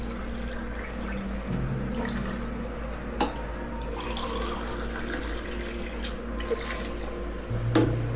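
Water poured into ragi flour while preparing ragi kali, a South Indian finger-millet dish; a steady, close splashing pour runs throughout at moderate level over a low background hum, with a few small knocks.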